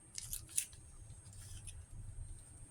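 Scissors snip the legs and heads off raw shrimp being cleaned before freezing, giving a few quiet, close crisp cuts with soft handling noise between them.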